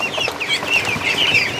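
Many Muscovy ducks calling together indoors, a continuous chorus of overlapping high-pitched peeping and chattering calls, loud and close.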